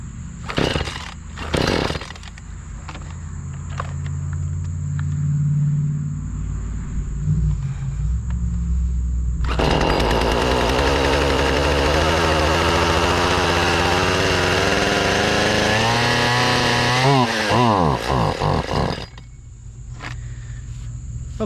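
Craftsman chainsaw that would not start, running briefly on a little gas poured into the cylinder with an empty tank. After some pulls and clatter it snarls loudly at high revs for about ten seconds, then dies.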